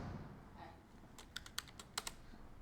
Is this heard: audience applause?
no